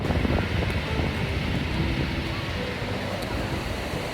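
Ocean surf at a winter beach in Mazatlan, Mexico, by a resort hotel, with rough seasonal waves making a steady, loud, broadband wash and rumble with wind noise throughout.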